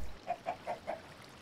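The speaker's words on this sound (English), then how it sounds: "Where's that chicken at? I hear a chicken." A Minecraft chicken clucks four times in an even rhythm, each short cluck clear and moderately close, with nothing else over it.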